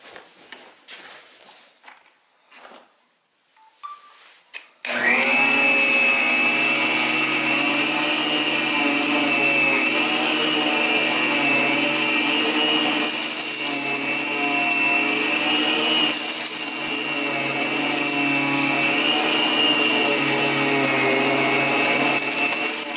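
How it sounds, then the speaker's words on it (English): A compact vacuum cleaner picks up hair, litter, flour and cereal. After a few quiet handling clicks, its motor switches on with a loud, steady whine and roar that runs close and continuous, with slight shifts as debris is sucked in. "So now we're going to go ahead and turn the vacuum on and see what that picks up"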